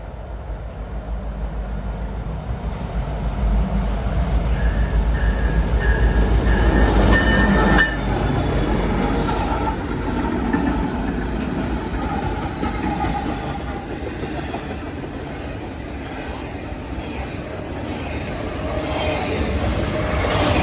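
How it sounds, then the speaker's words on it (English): Norfolk Southern westbound train 273, led by a freshly painted ST70 ACC locomotive numbered 1850, rolls past Collier Yard with a loud, steady rumble of wheels and cars, occasional high wheel squeal and clatter, continuous and close. "We then see NS westbound train 273 with a fresh ST70 ACC number 1850"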